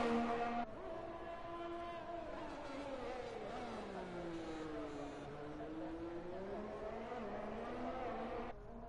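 A Ferrari race car in a URC round in Canada, its engine note rising and falling steadily as it drives past, with a commentator talking over it throughout.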